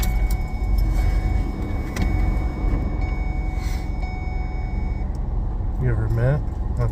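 A 2009 Jaguar XF engine idles steadily in the background after starting, its revs settling, with a short rising whine near the end.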